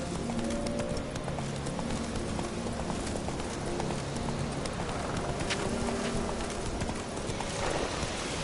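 Hooves of a horse gallop in a steady rapid clip-clop rhythm throughout, moderately faint under an ambient game soundscape, from the video game The Witcher 3.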